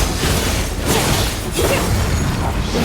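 Bombs going off in the fantasy action game Genshin Impact, a dense run of loud, close blasts and crashing bursts that carry on back to back with no pause, with no speech.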